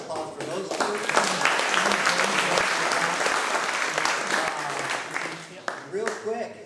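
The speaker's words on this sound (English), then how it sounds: "So big round of applause for those two." Applause from the audience at a Santa Cruz Longboard Union blue plaque presentation, lively clapping from a modest crowd with voices and cheers mixed in, fading near the end.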